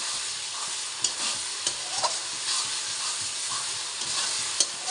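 Mutton sizzling as it fries in spiced oil with Kashmiri chilli powder, with a steady broadband hiss and scattered clicks of stirring at a moderate distance.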